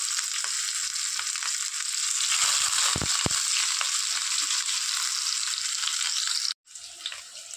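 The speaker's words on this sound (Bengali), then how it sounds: "এখানে তেলটা গরম হয়ে গিয়েছে, দিয়ে দেবো পেঁয়াজগুলো।" Chopped onions frying in hot oil in a pan, a steady loud sizzle with bursts of crackle, briefly interrupted near the end before resuming.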